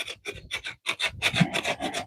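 Sanding of a hand-carved wooden bowl: close, rhythmic rasping strokes, about a dozen back-and-forth scrapes in quick succession with brief gaps between them.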